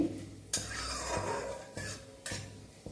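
Cumin seeds fry in a pan while a utensil stirs them, giving a low sizzle punctuated by several sharp metallic scrapes and knocks against the pan.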